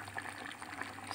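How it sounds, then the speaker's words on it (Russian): Sour cream mixed with water is poured over fish in a pan, giving a faint, continuous liquid pouring and bubbling wash for about a second, with no voices. "Теперь сейчас все заливаем"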